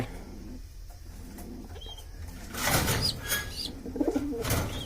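Pigeons in a loft cage give soft, repeated throaty coos, close by and growing busier toward the end, with faint rustling beneath.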